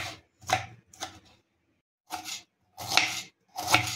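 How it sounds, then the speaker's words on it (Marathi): Knife slicing a vegetable as thinly as possible for crispy cutlets, in a series of distinct close cuts on a board, two quick strokes, a pause, then three more. "इथे मी पातळ पातळ कट करण्याचा प्रयत्न करते, जास्त जाड आपल्याला करायचं नाहीये"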